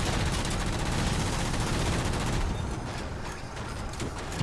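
Gunfire in the Halo 4 campaign: a dense, continuous roar of rapid automatic shots and blasts that fills the whole stretch, loud and close, easing slightly toward the end.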